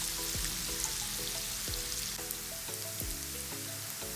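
Onion and garlic sauté in hot oil in a pan for an egg curry, a constant close sizzle and crackle. Low tonal clunks break in at intervals, and no one speaks.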